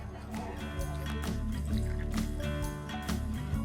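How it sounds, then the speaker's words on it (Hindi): Slightly warm water is poured little by little into fasting idli batter made from samo rice, giving soft, close liquid trickling and splashing beneath a low background hum. "अब इसमें हम डालेंगे थोड़ा सा गर्म पानी, हल्का गर्म।"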